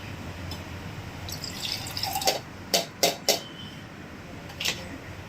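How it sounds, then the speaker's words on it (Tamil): Water is poured into a pot while chicken biryani with basmati rice is being made, heard as a faint spattering trickle with a few sharp clinks and drips against metal. "2 அழாக்கு நான் தண்ணி ஊற்றுறேன்"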